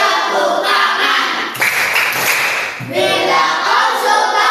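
Hands clap along to a children's action song, with bursts of quick claps between sung lines. The singing voice sits close and fairly loud.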